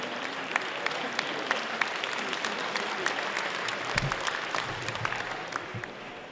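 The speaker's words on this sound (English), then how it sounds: "Please give a big round of applause to our sponsors" Audience applause at the American Chamber of Commerce in Taiwan's Lunar New Year banquet, a steady roomful of clapping at moderate distance, continuous and even with a few louder claps.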